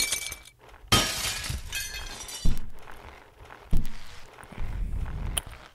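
Glass shattering in the video game Happy Wheels 3 on a spinning-glass stage: several sharp crashes of breaking panes with tinkling debris, spaced a second or so apart, over thumps and game noise.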